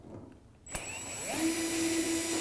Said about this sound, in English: We're going to first start by removing all of the smaller screws on the cover plate to allow us to then remove the motor.